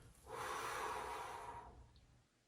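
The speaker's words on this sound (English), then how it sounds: "Breathe out" A single long exhale during a lying-down back mobility exercise for lumbar disc relief: one steady, breathy rush of air that swells, holds for about a second and a half, then fades into quiet.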